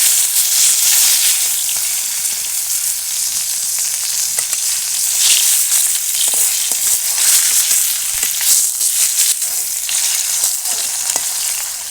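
Fish heads fry in hot oil, making a continuous, loud, crackling sizzle with small pops, steady from start to end with no one speaking.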